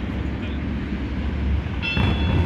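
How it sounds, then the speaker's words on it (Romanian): An old city tram passing by, a rolling low rumble that swells near the end with a brief high metallic squeal of wheels on rails. "Ia ce tramvai rău."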